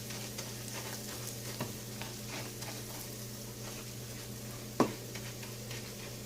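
Rice frying and browning in a pan, with a steady low sizzle throughout, light stirring scrapes and one sharp clink near the end.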